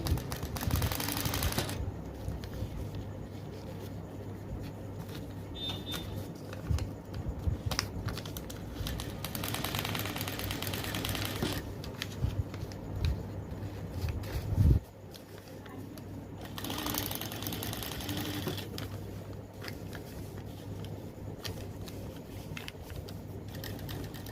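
Sewing machine stitching a petticoat seam, running steady rapid bursts of stitching, close and fairly loud, with a pause partway through.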